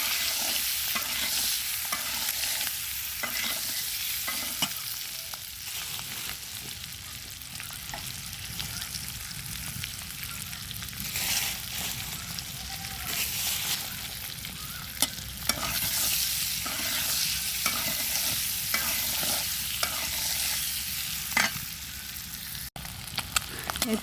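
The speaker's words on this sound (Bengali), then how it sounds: "তেল গরম হয়ে গেছে, ডিমগুলো এখন ভাজে নেব।" Eggs seasoned with salt and turmeric fry in hot oil in a pan, giving a steady, close sizzle with scraping stir sounds that continues throughout without talk.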